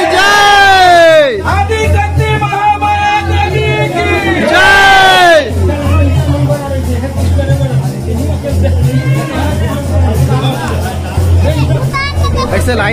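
Large crowd at a village Jawara idol immersion festival, a loud continuous hubbub of many voices with cheers and whoops rising above the babble.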